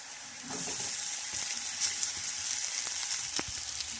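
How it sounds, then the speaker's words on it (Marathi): Egg fried rice frying in a pan, a steady moderate sizzle with a few light stirring clicks and scrapes, close and uninterrupted. "आणि हे सुद्धा छान यामध्ये मिक्स करून फ्राय करायचं आहे।"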